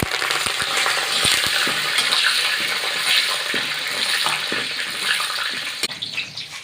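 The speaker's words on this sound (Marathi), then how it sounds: "कडीपत्ता कढीपत्ता तळून घेऊया" Curry leaves fry in hot oil for a bhadang chivda snack, making a continuous loud sizzle with scattered sharp crackles and pops throughout and no voice over it.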